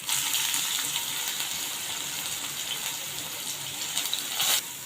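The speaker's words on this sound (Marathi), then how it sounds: "आता इथे कांदा आपल्याला चांगला परतून घ्यायचा आहे" Steady, close sizzling of onions frying in hot oil with spluttered mustard seeds, a bright crackling hiss with a few louder pops near the end.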